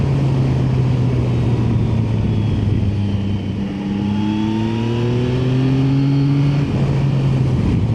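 A Yamaha Tracer 9 GT motorcycle engine revs up through the gears while riding, its tone climbing in steady pulls, dipping briefly, then rising again, loud and close with wind noise and no talking.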